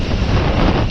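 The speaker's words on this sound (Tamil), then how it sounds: "எதிர்காற்று பயங்கரமாக இருக்குங்க." Strong headwind buffets a microphone during a drizzly motorbike ride near Courtallam, a loud, constant roaring rumble with no speech over it.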